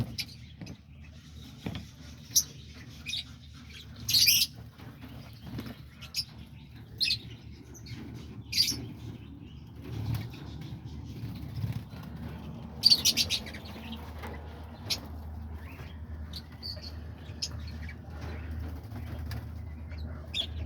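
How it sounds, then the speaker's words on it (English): Diamond doves gathering to eat bread, giving sparse high chirps and brief wing flutters over a low steady background, with a few sharper bursts scattered across the stretch. "there's all the little diamond doves right here"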